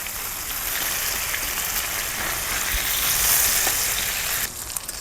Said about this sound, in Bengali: পনিরটা কিন্তু একদম লাল লাল করে ভেজে নিয়েছি